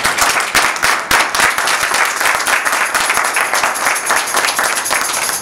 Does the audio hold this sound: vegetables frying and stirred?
no